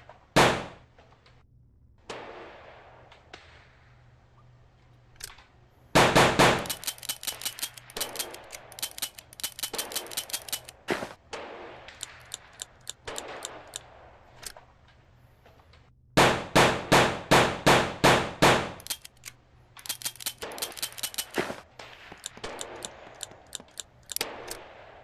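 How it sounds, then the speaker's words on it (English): Pistol shots from the Wild West add-on in the VR shooting game Gun Club VR, firing in two rapid volleys of sharp cracks, each shot trailing a short metallic ring, with mechanical clicks and handling noises filling the gaps. "Pistols that came with the Wild West DLC."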